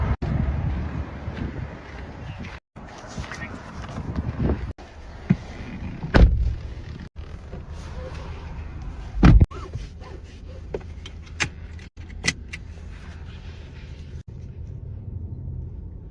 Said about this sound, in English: I'm getting back into my vehicle.